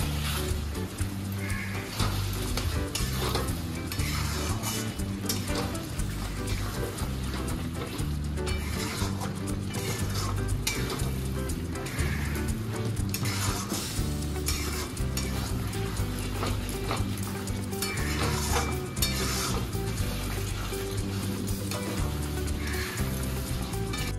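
Bengali-style liver fry with homemade garam masala gets stirred in a pan, giving continuous scraping and sizzling with dense, irregular strokes throughout.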